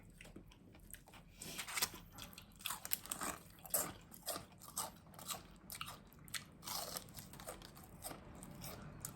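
Someone at a home Christmas party bites into crunchy cucumber, making close, crisp crunches and chewing that repeat in an uneven rhythm across the whole stretch, with no talking.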